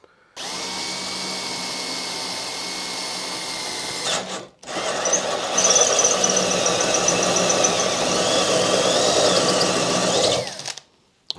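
A drill fitted with a circle cutter bores a hole for a homemade desk, running in a loud continuous whine that stops briefly, restarts and holds steady before cutting off, with no talk.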